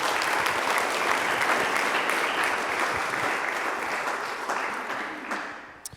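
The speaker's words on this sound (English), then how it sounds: "Let's have a round of applause for all the sponsors." Sustained audience applause for event sponsors at a Far West Texas talk, a dense steady wash of many hands clapping that fades slightly toward the end, with no voices over it.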